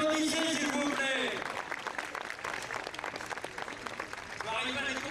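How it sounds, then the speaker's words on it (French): Audience applause at a 2004 event in Boulogne-sur-Mer, a dense patter of clapping mixed with loud voices and singing-like tones over it, dipping in the middle and swelling again at the end. "Applaudissez s'il vous plaît."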